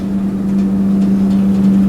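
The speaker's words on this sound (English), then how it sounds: "Listen to the motor on this thing." The motor of an original 1984-era Westinghouse elevator in an old mall drones steadily, a loud, even low hum with a faint mechanical rumble and no voices.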